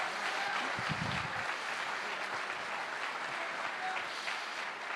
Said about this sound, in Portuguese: Pode aplaudir com gosto